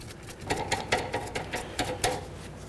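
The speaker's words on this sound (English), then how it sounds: "Now let's remove our jam nut right here." A jam nut being worked loose on the outer tie rod of a 2007-2012 Dodge Caliber, giving a string of short metallic ratcheting clicks in quick uneven bursts, close and fairly quiet in a garage.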